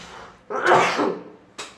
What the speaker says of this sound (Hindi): थोड़ा खांसी की आवाज़ तो आप लोगों को झेलनी पड़ेगी।